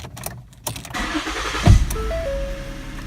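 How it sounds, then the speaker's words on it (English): A 2013 Ford Edge SEL's engine cranks briefly and catches, then settles into a steady idle with a chime sounding from inside the cabin. "let's go ahead and start this up"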